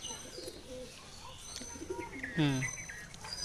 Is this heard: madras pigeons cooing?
yes